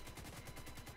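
A quick string of gunfire from an enemy in the video game The Division 2, faint rapid rhythmic shots lasting about a second.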